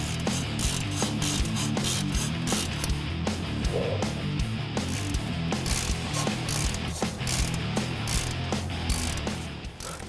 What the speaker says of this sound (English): Now to lower in place, we can tighten the strut nut up.